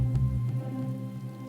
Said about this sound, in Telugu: అర్ధరాత్రి ఈ వానలో